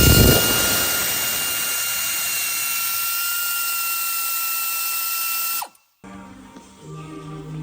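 A three-quarter inch impact wrench hammers on the hub bolts of a Toyota Land Cruiser Prado GX470 during a hub replacement, a loud continuous rattling whir held close for several seconds before it cuts off, then a brief softer mechanical clatter.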